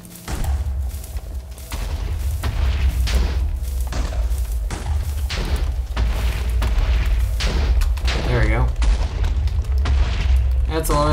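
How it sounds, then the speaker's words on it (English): Repeated game explosions from a Minecraft-style survival multiplayer world after a fuse is lit, a dense series of loud booming thuds and bursts rolling on for several seconds, with someone talking briefly over them. "That's a lot of explosions."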